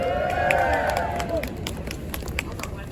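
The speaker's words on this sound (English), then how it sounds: "So give a loud cheer for Fazila." Crowd at a pro-Palestinian protest rally in Leeds cheering and clapping, scattered claps and shouts over a whistling tone, loudest at first then tapering to lighter applause.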